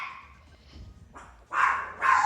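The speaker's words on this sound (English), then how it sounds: "it's just my dog Chiquita barking" A dog barks indoors, a soft whine followed by two loud, sharp barks close by.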